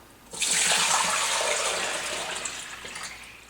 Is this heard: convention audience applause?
no